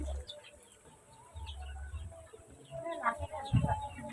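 Chickens clucking softly at a distance in a rural Sundanese village in West Java, with scattered bird calls and a low background rumble, a few louder clucks near the end.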